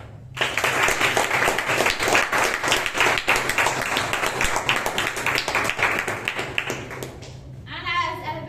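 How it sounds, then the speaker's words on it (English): Audience at a Bangalore Toastmasters meeting breaks into dense, sustained applause of many hands clapping close by for about seven seconds, then fades as a voice begins speaking. "kindly give a huge round of applause to both of them"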